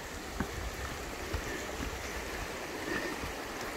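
A brook flows beside a forest trail near the Musquash Estuary in Canada, a steady, soft rushing of water with a few faint knocks.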